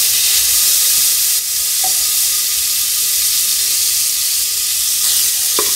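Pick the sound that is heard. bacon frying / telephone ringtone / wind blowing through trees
bacon frying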